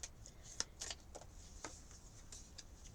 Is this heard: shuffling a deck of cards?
yes